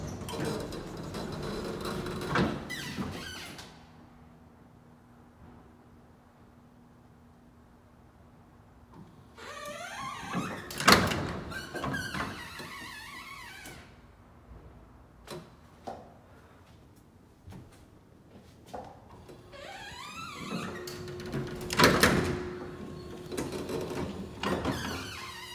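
Doors of a vintage U.S. hydraulic elevator in Santa Monica, California slide open and shut, with motorized whirring runs, clunks and a steady low hum between long quieter stretches, repeating about three times.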